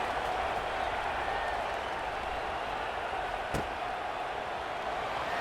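A stadium crowd in a college football video game keeps up a steady, distant roar of cheering and applause, a broad continuous wash with no clear peaks, briefly under a single sharp click.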